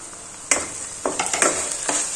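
Onion and fenugreek (methi) leaves sautéing in a pan give a steady, fairly loud sizzle, broken by several sharp scraping stirs.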